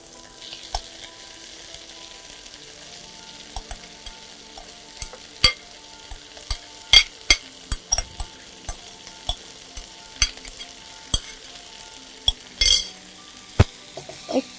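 Radish greens with shrimp fry in a pan, giving a soft steady sizzle, while a utensil stirs them with frequent sharp scrapes and clicks against the metal in an uneven rhythm.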